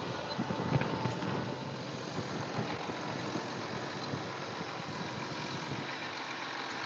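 A 2009 tractor engine runs at a steady idle, a constant broad rumbling drone that stays even and unbroken from start to finish, close by, with no voices.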